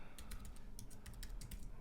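A computer keyboard is tapped in a quick run of soft keystrokes, a dozen or so clicks close by and quiet, with no voices.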